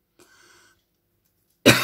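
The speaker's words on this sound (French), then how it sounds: "Par contre, je tousse." A faint, muffled sound at first, then silence, then a single sudden loud cough bursts out right at the end.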